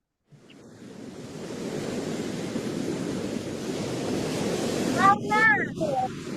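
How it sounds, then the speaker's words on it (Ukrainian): Steady rushing surf fills the scene as waves roll in continuously, with a few brief high cries breaking through near the end. "Водичка, море наше."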